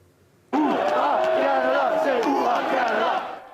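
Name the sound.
crowd cheering for Team Canada at World Cup qualifier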